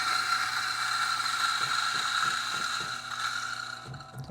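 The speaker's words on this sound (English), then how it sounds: "So you got to run the machine first and then pour the beans." Coffee grinder on a Breville Bambino espresso setup runs with a steady high-pitched motor whine while beans grind and rattle, with a few clicks partway through.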